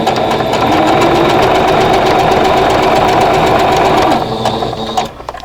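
An electric sewing machine stitches a chained star stash-buster quilt block in one loud, continuous, close whir that holds steady for about five seconds and then winds down and stops.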